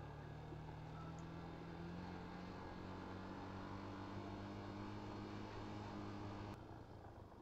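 A car engine droning steadily in first gear as the vehicle descends a long, steep downhill road into town near Sangsa, Kalimpong; the loud, continuous hum holds throughout and shifts slightly near the end.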